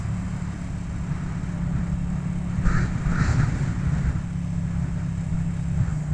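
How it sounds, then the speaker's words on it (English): Strong wind sweeps a mountain top along the Blue Ridge Parkway, buffeting the microphone in a steady, low roaring rumble with slight gusty swells and no talking. "it's so windy up here"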